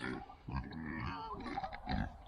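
Pigs grunting and oinking close by, a steady run of low snorts and squeals over a couple of seconds with no talking.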